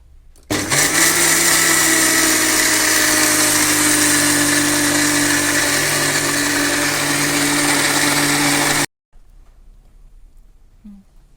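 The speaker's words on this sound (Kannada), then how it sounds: "ಉದ್ದನಿಗೆ ಮಿಕ್ಸಿ ಹಾಕ್ತೇನೆ" A kitchen mixer grinder churns soaked urad dal with a little water for dosa batter, a loud, steady motor whir lasting about eight seconds before it switches off into quiet.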